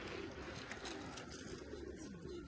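Soft, low cooing of pigeons or doves, repeated faintly over a steady background hiss.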